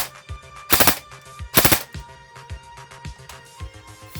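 A VFC MCX airsoft rifle fires three-shot bursts, each a short rapid volley of sharp clicks. Two loud bursts come close together and are followed by softer mechanical clicks at an even pace.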